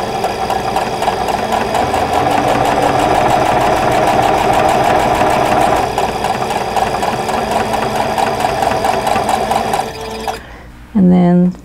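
A sewing machine chain-pieces quilt block pieces for a pinwheel block in a continuous, loud whirring run of rapid stitching, stopping near the end before a brief burst of handling noise.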